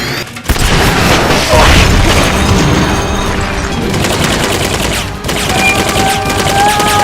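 Boosters firing in the video game Metal Gear Peace Walker, a loud sustained roaring blast with rumbling booms and rattling bursts, close and continuous, with game sound effects layered throughout.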